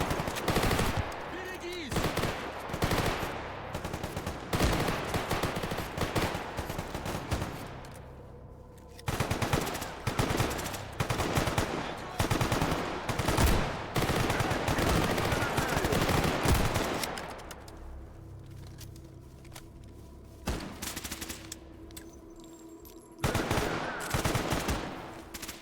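Automatic gunfire in a video game, with long, loud rapid-fire bursts as whole magazines are emptied, pausing briefly between strings and easing off near the end, with a voice speaking now and then.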